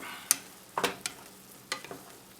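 Vegetables with basil and oregano being stirred in a pan, a few distinct scrapes and taps over a faint sizzle, sparse and close.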